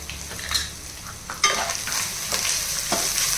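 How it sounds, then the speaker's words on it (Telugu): Spices being stirred into a sizzling rajma rice mixture in a pan, with steady frying hiss and repeated scraping strokes of a spoon against the pan, close and fairly loud. "అన్నీ ఒకసారి బాగా మిక్స్ చేసుకోండి"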